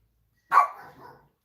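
A single loud dog bark, close by, trailing off into a brief softer yelp before silence.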